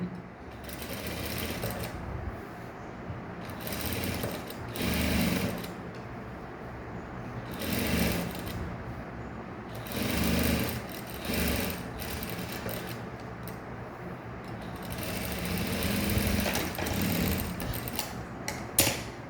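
Sewing machine stitching a blouse neck, running in repeated bursts of steady mechanical whirring with short pauses between, moderately loud and close, with quiet talk in between.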